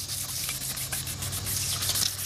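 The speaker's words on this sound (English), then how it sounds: "The longer you sand, the better the result with our headlight restoration system." A yellowed, cloudy car headlight lens is sanded by hand as part of a restoration. The rubbing is steady and close, with a low hum underneath.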